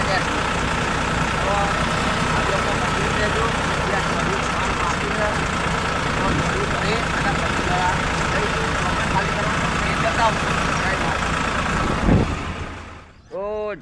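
A tractor engine drones steadily at close range beside a vehicle stuck on a muddy road, a continuous low rumble that cuts off abruptly near the end, with faint voices in the background.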